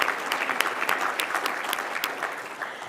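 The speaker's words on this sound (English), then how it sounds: "You're welcome to clap again." An audience at a formal political event with a speaker on stage gives a short round of applause. Many hands clap steadily at a moderate distance, fading slightly toward the end.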